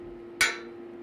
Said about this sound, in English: I use a hammer again and kind of push the gums back onto the teeth a little bit